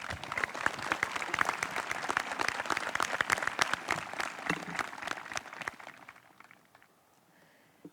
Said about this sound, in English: Please join me in a round of applause for Christine Perkins.